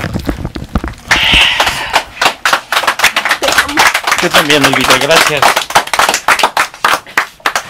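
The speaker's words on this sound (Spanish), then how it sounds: "Ese aplauso es para ti porque la verdad te agradezco mucho." Hands clap in sharp, uneven bursts close to the microphone, mixed with spoken words and a brief voice between the claps.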